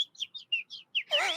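A person whistles a bird imitation in a classroom, a run of six quick, bright chirping notes followed by a longer warbling trill, close and clear with no talking.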